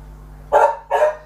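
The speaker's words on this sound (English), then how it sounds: "Pepper, shush, shush, noisy dog, shush." A pet dog named Pepper gives two sharp, close barks in quick succession indoors, loud against a quiet background hum.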